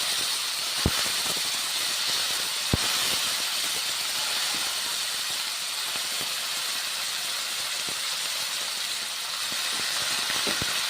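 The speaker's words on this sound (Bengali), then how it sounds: "বাঁধাকপিগুলো কড়াইয়ের মধ্যে মশলার সঙ্গে ছেড়ে দিচ্ছি।" Cabbage with lentils fries with spices in a wok, giving a steady, even sizzling hiss throughout with a few faint clicks and no talk.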